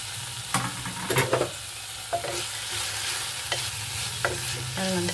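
Mung beans being stirred in a pan for saaru: a steady low sizzle runs throughout, broken by several scraping stirs with a spoon, each brief and moderately close.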